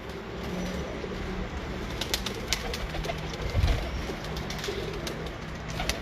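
Breeder pigeons cooing softly at a loft, a low steady murmur of coos with occasional louder calls, set against a constant noisy background.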